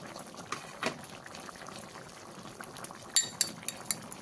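Soybean dopeyaza gravy bubbling in a pan, a steady low simmer with a few louder pops and blips scattered through, heard alone with no talk.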